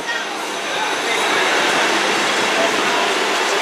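A Class 159 South Western Railway diesel unit, 159103, pulls into a Devon station, a loud steady broadband rumble and rush that swells slightly and holds close by.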